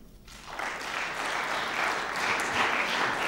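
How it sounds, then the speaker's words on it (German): Applause breaks out in a Dresden city council session, starting after a brief quiet moment and rising into steady, full clapping that grows slightly louder toward the end. "Applaus"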